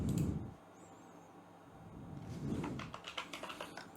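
Typing on a computer keyboard attached to a glitching virtualized Windows system, a quick burst of close, crisp key clicks toward the end after a quieter stretch.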